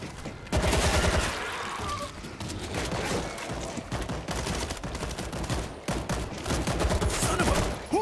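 Sustained gunfire in World War Z, dense automatic bursts and rattling shots firing almost continuously, loud and close, with brief lulls between volleys.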